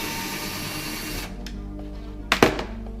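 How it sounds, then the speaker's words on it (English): A power drill with a 1 centimeter socket whirs steadily backing out mobility scooter battery bolts, then stops, followed by a couple of sharp metallic clunks up close. "I prefer to make life easy and use a 1 centimeter socket on a drill."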